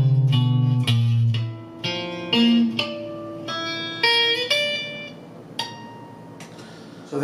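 Guitar playing the ending of a song's intro, a string of single plucked notes and arpeggiated chords ringing out one after another, close and clear, with no voices.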